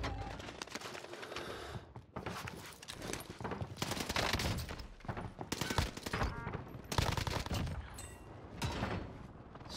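Gunfire rattles through a Warzone match, with repeated bursts of rapid shots and scattered single cracks coming and going at a fairly low, distant-sounding level.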